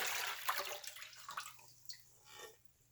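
Green-colored sugar water poured into a big bowl, a brief splashing, trickling stream that tapers off into scattered drips, fairly close and alone.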